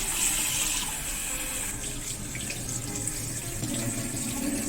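Tap water runs steadily into a sink while pork bones are rinsed after blanching, a continuous close splashing hiss with no talking.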